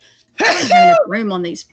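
A loud, close sneeze bursts out, followed right away by a short stretch of speech saying bless you.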